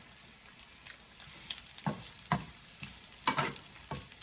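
Flatbread strips fry in olive oil in a small pot, a soft steady sizzle broken by several sharper crackling bursts as strips go in and are stirred.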